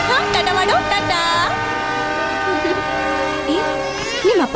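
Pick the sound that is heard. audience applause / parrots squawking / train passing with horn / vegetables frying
train passing with horn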